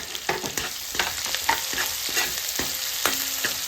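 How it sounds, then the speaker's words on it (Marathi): Finely chopped green chilies fry in oil with onion for Maharashtrian kanda poha. A loud, close sizzle is punctuated by quick, repeated spatula scrapes and taps against the pan, with no voices. "मी 4 हिरव्या मिरच्या बारीक चिरून टाकल्या."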